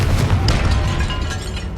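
A Confringo spell blast in Hogwarts Legacy, a loud close boom with a rumbling low burst that fades out over about two seconds, with no speech.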